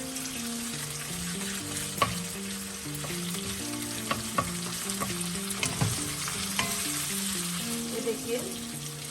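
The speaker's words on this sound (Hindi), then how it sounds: "फ्लेम पे हमें चिकन फ्राई करना है, बोथ साइड फ्राई करना है हमें" Chicken pieces fry over a flame and are turned to brown on both sides for a stir fry, giving a constant close sizzle with occasional clicks and scrapes from stirring.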